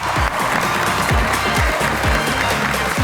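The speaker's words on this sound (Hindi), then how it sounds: "आप सबकी तालियों में तशरीफ लाते हैं" A studio audience on a talk show claps to welcome arriving guests, a continuous, loud wash of applause with a rhythmic musical beat pulsing underneath throughout.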